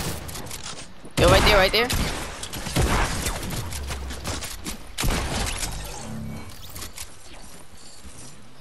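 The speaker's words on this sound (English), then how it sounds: "There's more people still shooting at him." Fortnite gunfire crackles in rapid bursts, loudest around the start and again near the middle, sitting under excited talk from a player.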